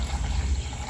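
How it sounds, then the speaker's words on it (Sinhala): Water poured into a container during cooking, a brief close, steady splashing rush with a low gurgling body, heard alone. "ඒ විදිහට මේ ගානටම එකක් වතුර දාන්න."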